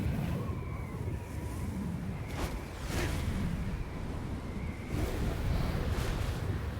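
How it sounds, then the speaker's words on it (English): Steady, loud wind rushing in a Zelda game, continuous broadband gusts with slight swells, no talk. "fucking windy."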